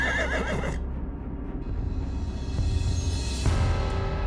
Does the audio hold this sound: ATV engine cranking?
no